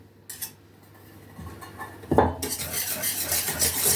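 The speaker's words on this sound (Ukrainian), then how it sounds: "Так, перемішуємо зі сметаною." Cake batter with sour cream and melted margarine being stirred in a bowl, a spoon clinking and scraping against the dish with sharp taps, growing into continuous busy mixing clatter.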